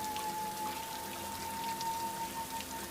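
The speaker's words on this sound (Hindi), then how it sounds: "थोड़ी ही देर में बहुत तेज और बारिश और तूफान आना शुरू हो जाता है" Cartoon heavy rain and storm: a dense, steady hiss of falling rain and pattering drops, moderately loud and continuous throughout with a thin sustained tone running across it, no voices.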